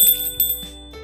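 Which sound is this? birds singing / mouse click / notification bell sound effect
notification bell sound effect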